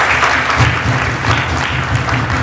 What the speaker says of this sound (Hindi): कृपया तालियों से इनका अभिवादन